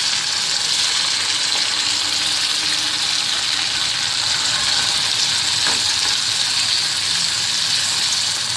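Tomatoes sizzling steadily in a hot pan while cooking a simple Telugu-style tomato onion curry, with a constant bright hiss and crackle that holds evenly throughout and has no talking over it.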